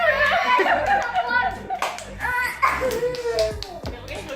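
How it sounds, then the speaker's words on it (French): Family members clapping their hands at home during a birthday gift opening, a few uneven bursts of claps mixed with children's chatter and voices talking throughout. "Ouais, on applaudit."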